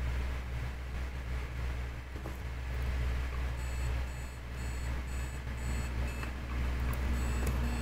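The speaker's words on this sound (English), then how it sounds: "Six beeps. So it's gotta be six." A series of six short electronic beeps in the horror game Trapped repeats over a steady low hum, evenly spaced and fairly clear against the background.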